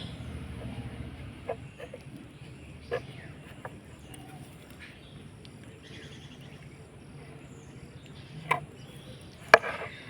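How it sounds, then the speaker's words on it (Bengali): A knife cuts through pitha dough on a kitchen surface, giving a few scattered, faint, sharp taps spread over several seconds against a quiet background. "বাকি অংশটা এইভাবে করে ছুরি দিয়ে কেটে নেব"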